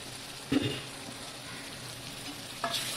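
Homemade garam masala and spices fry in hot oil for a fish curry, a steady close sizzle with two sharper bursts as the mixture is stirred, and no voices.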